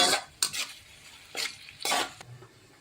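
A metal spoon stirs spiced tempered rice (vagharela bhat) in hot oil in a pan, producing four short scraping, sizzling bursts spaced irregularly. There are quiet pauses between the bursts and no talking.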